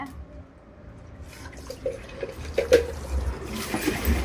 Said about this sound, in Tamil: கொஞ்சம் தண்ணி தெளிச்சுக்கோ பக்கில் தண்ணி பிடிச்சிச்சு